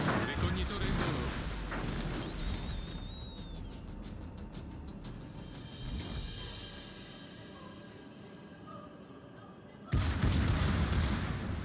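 Rapid secondary naval guns on a warship in World of Warships fire in a dense, continuous barrage of booming reports, loud and close, with a heavier burst near the end; a voice is heard briefly under the gunfire.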